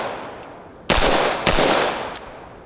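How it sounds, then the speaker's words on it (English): Three AR-15 rifle shots ring out, two sharp loud cracks about half a second apart and a fainter third, each with a short echoing tail. "Let's shoot it. Almost no recoil, very loud."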